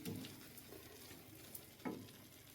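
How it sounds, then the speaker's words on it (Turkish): Sesame semolina halva stirred in a pan on the stove, giving a soft continuous scraping and faint sizzle with a couple of louder spoon scrapes, close by and with no talking. "Ocağın üstüne geri alıyorum ve burada güzelce çevirerek koyulamışmasını sağlayalım"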